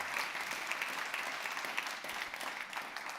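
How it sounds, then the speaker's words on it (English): An audience at a peace and foreign-policy conference in Berlin applauds a speaker being welcomed, dense continuous clapping of a large crowd, steady and even throughout. "Please join me in welcoming Dr. Kira Finke. Your applause"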